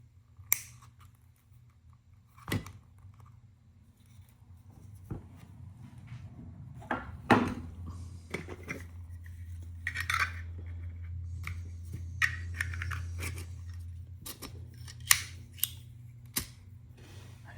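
A few sharp snips cutting something off, scattered single clicks spaced seconds apart over a low steady hum, close and fairly quiet with no talk.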